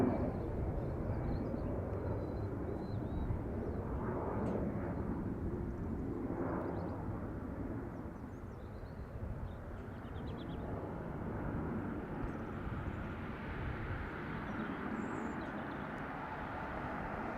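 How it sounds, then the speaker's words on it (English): Aer Lingus Airbus A330, 23 or 24 years old, at Dublin Airport, heard as a broad, steady jet engine roar that stays fairly loud and distant-sounding throughout, with no talking. "A330 in the best colour available."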